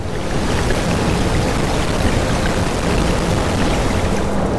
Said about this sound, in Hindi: बिजली चमकने के साथ तेज बारिश शुरू हो जाती है।